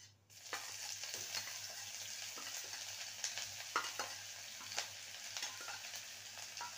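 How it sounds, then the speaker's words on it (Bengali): Ginger paste fries in hot oil with tempered whole spices, a steady soft sizzle broken by repeated scraping stir strokes of a spoon in the pan, with no talk. "আদাটাকে ভালো করে কষিয়ে নেব।"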